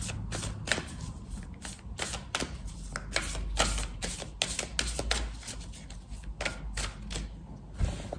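Starseed Oracle cards are shuffled by hand in a continuous run of soft, papery riffling and flicking bursts, close and fairly quiet, with no talking.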